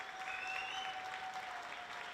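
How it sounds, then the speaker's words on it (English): Steady applause from a basketball crowd as high school seniors leave the court after their final regular-season game, a continuous even wash of clapping at moderate distance. "The crowd giving the seniors their due as they exit the court for the last time in the regular season."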